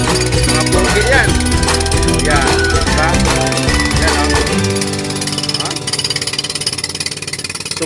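Jackhammer-style breaker pounding at a railway construction site where workers are breaking ground, a loud continuous rattling hammer close by with a voice talking over it.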